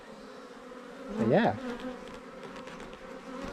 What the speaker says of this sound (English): I'm going to get away from the front of this hive now because I'm upsetting the bees.